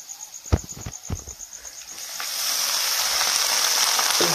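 Small dried fish drop into hot oil with already-fried onion and garlic. A few sharp clicks and pops come first, then a loud, close, steady sizzle swells and keeps hissing to the end.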